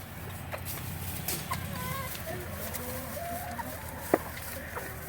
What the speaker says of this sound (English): You gonna go check on your chickens?